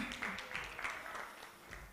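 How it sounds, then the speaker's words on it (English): At a media viability conference, an audience gives faint, low-level applause for the moderator, Raymond. The clapping is soft and blurred, heard from a distance with no talk over it. "Let's clap for the moderator, everyone."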